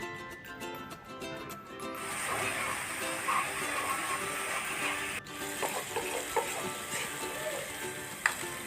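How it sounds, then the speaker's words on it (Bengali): Masala with salt, red chili, turmeric and coriander powder sautéing in a pan, a steady sizzle with stirring scrapes and occasional clinks, close by and continuous. "পরিমাণ মতো লবণ শুকনো মরিচ গুঁড়ো হলুদ গুঁড়ো ধনিয়া গুঁড়ো দিয়ে বেশ ভালোভাবে কষিয়ে নেব"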